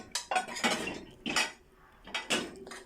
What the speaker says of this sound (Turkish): Ben bulaşıklarını aldım.